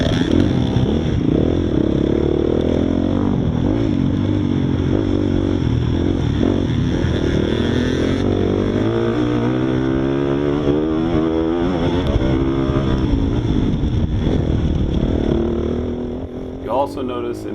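A motorcycle engine drones loudly and continuously during a dirt race at Eddieville, the pitch rising and falling as the rider shifts and bogs, heard close from the bike itself before fading near the end.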